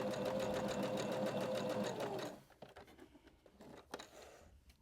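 A home sewing machine runs a wide zig-zag stitch at width 4 for about two seconds, giving a loud, fast, steady mechanical chatter. It then stops abruptly, leaving a few soft handling clicks and rustles.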